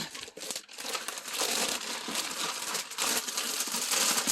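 Plastic packaging crinkling and crackling steadily up close as diamond painting kits are unwrapped, several layers pulled apart in one continuous rustle.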